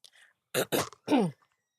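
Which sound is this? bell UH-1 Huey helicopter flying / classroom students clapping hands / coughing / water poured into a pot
coughing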